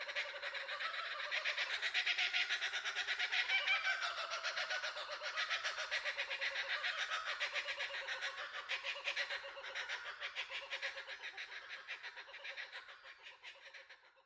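A kookaburra's raucous, laughing call rolls on continuously for several seconds, dense and cackling, then tapers off toward the end.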